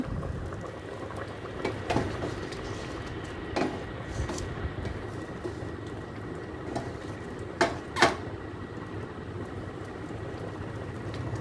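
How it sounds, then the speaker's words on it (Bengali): Meat boiling in a rice cooker, a steady bubbling rumble with occasional louder pops and clicks, close and continuous without talk. "দেখুন মাংসটা প্রায় বলক চলে আসছে, তো মাংস প্রায় আধা সেদ্ধ হয়ে গিয়েছে।"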